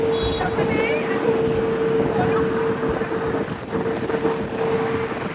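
Strong wind blasts across the open deck of a cruise ship at sea, a loud continuous roaring rush with a steady engine hum beneath, and a voice talking faintly under the gusts.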